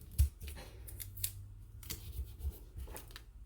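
Scissors snip through jute twine at a paper-crafting table, a few crisp close cuts with short pauses between them, with no talking.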